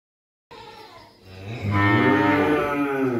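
An eight-month-old Friesian heifer calf lets out a loud, drawn-out moo that swells and holds close by, heard on its own with no talk.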